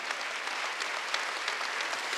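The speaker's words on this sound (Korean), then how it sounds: "박수 한번 드리세요" A church congregation applauds during a Wednesday worship service, a dense, steady patter of many hands clapping at moderate distance for a couple of seconds with no talk over it.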